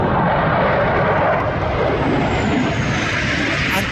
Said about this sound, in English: There is the flight patrol practicing for Sunday race.